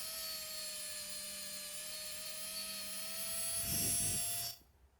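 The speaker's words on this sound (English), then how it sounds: "I used my Dremel and wire wheel to remove the remainder of the paint." A Dremel rotary tool with a wire wheel stripping paint from a 1979 Hot Wheels '63 split-window Corvette: a steady high-pitched whine with a scratchy grinding surge near the end before it shuts off, close, with no voices.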